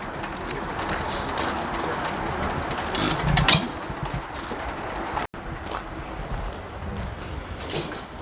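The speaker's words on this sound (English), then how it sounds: "it's really cool seeing all these old engines run" An old International gas engine runs at a large private gas engine show, its steady low chugging continuous and close amid outdoor crowd noise, with a brief louder stretch midway and a short dropout.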